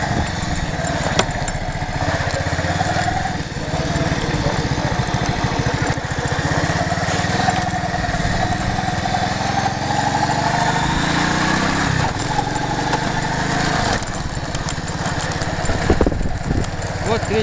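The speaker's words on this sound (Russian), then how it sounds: "Чтобы включить мопед, надо завести." A moped engine starts and then runs steadily at close range, a continuous buzzing two-stroke drone with small shifts in revs across the whole stretch.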